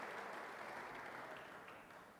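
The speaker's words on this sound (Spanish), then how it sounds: "Démosle un aplauso al Señor esta noche." Church congregation applauding during an evening Spanish-language worship service, a steady wash of clapping that slowly fades, moderately distant.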